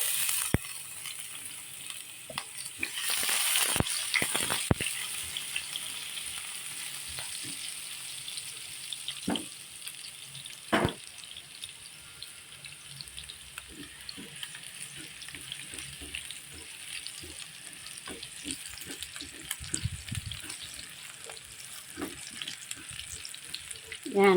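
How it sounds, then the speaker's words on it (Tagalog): Garlic sautés in hot oil in a pan for Bicol Express, a soft constant sizzle broken by sharp spatula scrapes and clicks, including a loud burst of stirring early on, with no talking. "Gisahin na po natin ang bawang."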